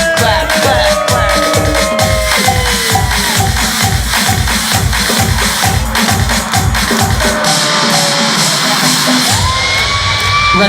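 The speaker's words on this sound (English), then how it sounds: "everybody clap those hands to the beat now" A wedding reception crowd claps in steady rhythm to loud music with a pounding beat, with cheers and shouts mixed in.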